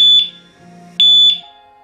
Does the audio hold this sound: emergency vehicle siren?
no